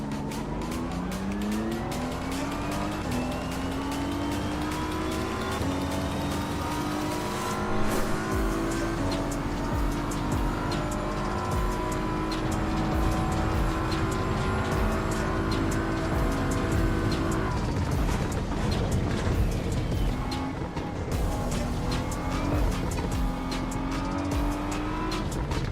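Race car engine roaring loud and steady through rising and falling gear sweeps, with tire squeal on cold tires, in a racing video game; engine tone climbs and drops repeatedly, no talk over it.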